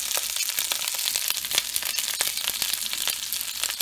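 Curry leaves and shallots or pearl onions crackle and spit in hot oil alongside mustard seeds and whole red chilies, a dense, steady sizzle dotted with sharp pops throughout.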